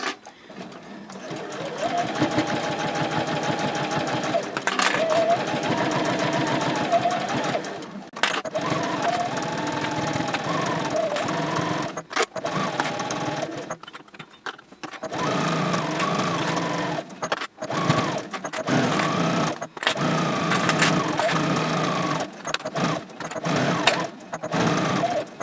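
A sewing machine bastes fabric an eighth of an inch from the edge at a 3.0 stitch length while making a sling bag. Its steady, close mechanical whir runs in long stretches, broken by a few brief stops and restarts.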